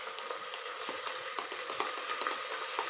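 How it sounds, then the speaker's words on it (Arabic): Rice stirred through hot oil with browned vermicelli in a single pot while making koshari, giving a steady close sizzle with soft scraping stirs and no talk. "هقلبه مع بعض كده يتشوح كويس مع الزيت والشعريه"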